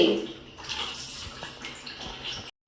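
Water splashes and pours as a child is bathed, a soft continuous wash with sloshing surges that cuts off abruptly near the end.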